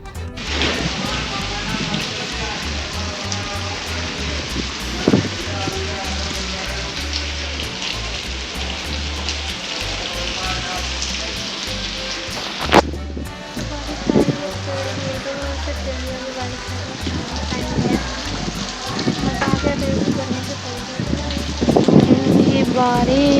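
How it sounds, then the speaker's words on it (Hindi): Steady rainfall patters down throughout, a broad continuous hiss with scattered louder drops and splashes nearby, while faint voices and background sounds come and go underneath. "ये बारिश, वाओ अमेजिंग"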